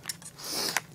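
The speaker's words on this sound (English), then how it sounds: "let's get the scissors out again" Scissors cut into the plastic packaging of a Master Lock, giving short quiet snips and a longer scraping cut, then a sharp snip near the end, with no talking.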